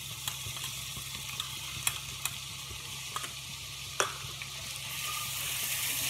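Ginger, garlic and green chillies sizzle in hot oil with a steady crackling hiss, punctuated by occasional sharp pops and light clinks of stirring.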